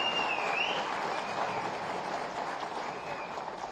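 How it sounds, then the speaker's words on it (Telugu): Audience applause for an author at a Telugu public event, a dense steady wash of clapping from a crowd that carries on throughout and fades slightly toward the end. "గట్టిగా చప్పట్లు కూడా అందరూ అభినందించాల్సిందిగా కోరుతున్నాం."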